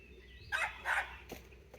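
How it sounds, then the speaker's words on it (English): A dog barking at a bird gives two quick barks followed by a couple of softer yips, slightly distant, with quiet garden surroundings. "He's barking at a bird."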